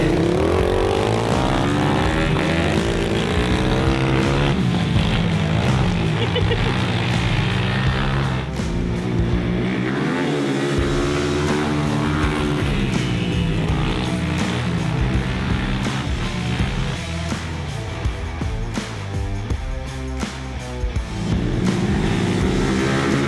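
A YCF pit bike engine runs loud and continuous, its revs rising and falling as it rides, with no talking over it.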